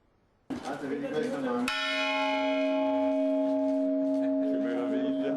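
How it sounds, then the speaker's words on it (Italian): A large, newly restored church bell in Treviso strikes once loudly and rings on with a long, shimmering hum, following a short burst of earlier chiming. "le campane torneranno a suonare in tempo per il Natale"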